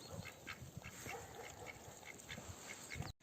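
Ducks being let out on a farm quack in short, scattered bursts, several birds close by, with soft outdoor background noise throughout.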